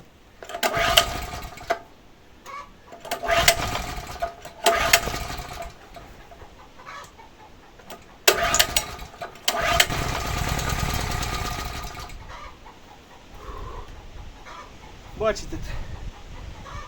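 Petrol generator engine sputters through several short bursts as it is pulled to start, then catches and runs briefly before falling off, with quieter gaps between attempts and faint background voices.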